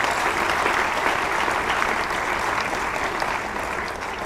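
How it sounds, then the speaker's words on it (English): Dense, sustained audience applause for a speaker at a live public event, loud and even before tapering slightly at the end, with no talk over it. "Please, doesn't he deserve a round of applause?"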